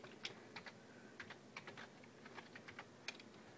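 Login details are typed on a Logitech G19 keyboard in a quiet room: a scattered run of soft, close keystroke clicks with small pauses between them.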